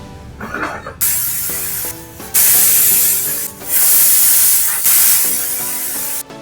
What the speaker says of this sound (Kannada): ಲಿಡ್ ಕ್ಲೋಸ್ ಮಾಡಿಬಿಟ್ಟು 4 ವಿಸಿಲ್ ಮಾಡಿಸ್ಕೊಳ್ಳೋಣ